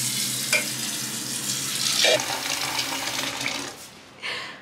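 Water runs steadily from a tap for a bath, a continuous hissing rush with small splashes that cuts off near the end.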